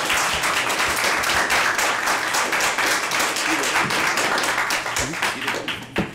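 A crowd applauding at a county jails and law enforcement committee meeting, steady dense clapping from many hands that tapers near the end, loud and close.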